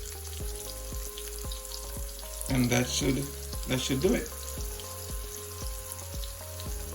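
A steady sizzle of shrimp frying in oil in a pot runs throughout, with a person speaking briefly partway through and faint regular ticking in the background.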